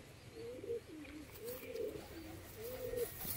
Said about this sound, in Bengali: যে কটা পায়রা সব করেছি সব ওই যে টিনের চালের উপরে রয়েছে বন্ধুরা